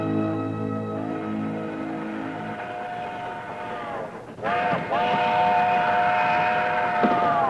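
A steam train approaches with its whistle blowing: a sustained layered whistle tone at first, then a louder rolling rush as the train draws near.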